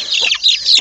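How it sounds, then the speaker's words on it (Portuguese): Free-range chicks on a farm, a quick burst of loud, close, high-pitched cheeping calls overlapping one another for under a second. "Temos esses pintinhos aqui, ó."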